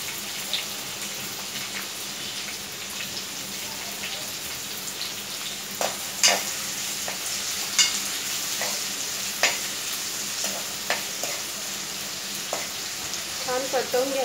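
Onion and garlic sauté in hot oil for a crab curry, a steady close sizzle broken by occasional sharp clinks and scrapes of stirring, with faint speech in the background.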